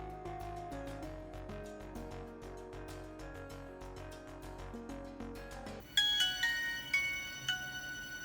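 A Nokia 101 phone powering on plays its bright, tinkly startup melody, a run of clear electronic notes, followed by a few sharper beeps as setup begins.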